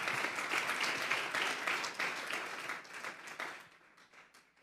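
A church congregation gives a strong round of applause, dense clapping that holds steady, then thins and fades away toward the end.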